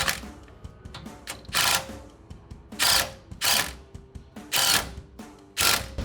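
A ratchet wrench clicks in repeated bursts while a 12 mm bolt is snugged on a Toyota Tacoma front CV axle hub assembly, about six bright rapid rattling runs with short pauses between, close and loud.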